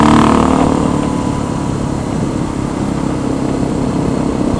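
A motorcycle engine drones loud and close while a rider practises wheelies on a road, a sustained rumbling revving tone that eases slightly midway and holds steady to the end.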